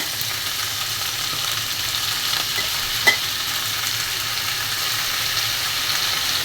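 Malabar spinach sizzles and fries in a pan, a steady hiss of hot oil with faint stirring and one small tap, continuous and without speech.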